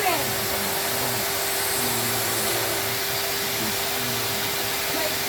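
A toy George hoover vacuum cleaner runs nearby with a steady, even whirring hum and a constant tonal whine, unbroken from start to finish.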